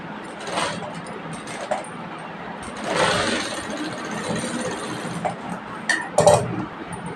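Sewing machine stitching blouse front and back pieces together, running in short bursts with a longer run near the middle, close and moderately loud, with a few small clinks between.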